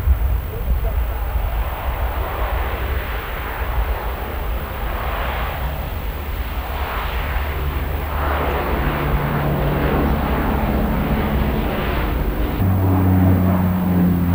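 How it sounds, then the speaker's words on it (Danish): Aircraft making a fast, low pass over the Værløse airfield at a 1984 open-house air show, a broad steady engine roar throughout, with a rising drone near the end and people talking over it. "Her har vi flyet hen over pladsen med stor hastighed."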